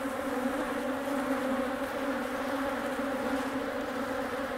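A captured honey bee swarm inside a hive gives off a dense, steady buzzing drone, close and even with no breaks, quiet overall and with no voices.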